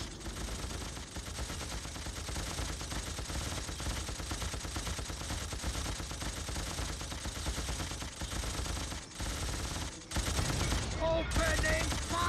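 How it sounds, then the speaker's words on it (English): Sustained rapid gunfire from the S.W.I.N.E strategy game, dense machine-gun bursts rattling nearly nonstop with brief gaps, and a voice breaks in near the end. "Opening fire!"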